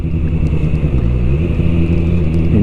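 The QJ Motor SRK 921 RR sport motorcycle runs with a steady, close engine drone and layered harmonic hum, the pitch wavering slightly and rising near the end as if revving up.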